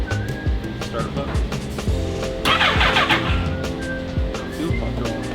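A race car engine cranks over and tries to start up close by, a rough, pulsing mechanical churn under steady talking voices.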